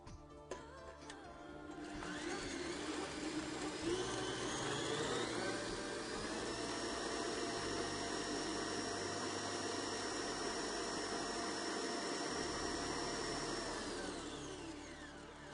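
An electric mixer beats eggs and vanilla into a striped cake batter, a steady whirring motor drone with a high whine that ramps up at the start and fades slightly at the end, with no talking.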